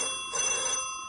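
An office telephone rings with a steady electronic bell tone, loud and close, sounding alone for about a second before being picked up.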